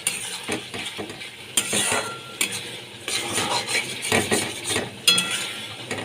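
Ground spices, Kashmiri chilli and cumin powder, sautéed in a pan for aloo dum and stirred continuously: close scraping and clattering strokes over a soft sizzle, in repeated bursts with no voices.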